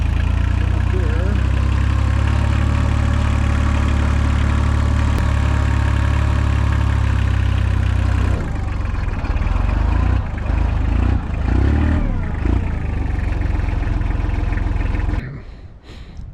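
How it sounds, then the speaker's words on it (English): A tractor engine idles steadily and low close by, its rumble shifting slightly partway through before cutting off near the end. "Well, I got the tractor running"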